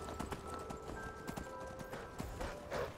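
Horse hooves clip-clop in a quick, steady rhythm as a rider travels in Skyrim, with faint game ambience behind the hoofbeats.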